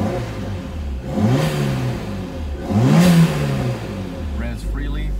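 A 1993 Toyota MR2 with a turbo engine revs twice while idling, each rise swelling and falling back over a steady low idle, close and fairly loud, with a faint voice near the end.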